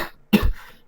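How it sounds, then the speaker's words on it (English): A single short cough in a Doctor Who roleplay adventure set in Second Life, one abrupt burst followed by a low rumbling tail, with quiet ambient sound before and after. "Oh, this cough."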